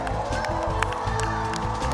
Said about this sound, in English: I think she really deserves a big round of applause, Christelle.